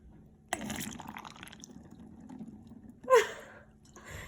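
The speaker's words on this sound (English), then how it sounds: "Drip off any excess water" Water dripping and trickling off a giant Orbeez squish ball, soft close splashes with a brief louder gush near the end, quiet and with pauses between.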